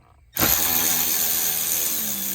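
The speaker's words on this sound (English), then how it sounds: "This right here is a 3/8 battery pack Milwaukee ratchet." A Milwaukee 3/8-inch battery-powered ratchet starts abruptly after a brief silence and then runs steadily, a close, loud, continuous motor whine.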